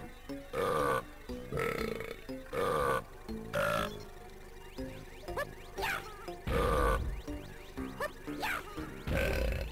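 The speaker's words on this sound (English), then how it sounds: "every key on this keyboard is a different tone of burp" Donkey Kong 64 keyboard notes sound as a run of loud burps at different pitches, roughly ten short belches played one after another in an uneven melody with short gaps between them.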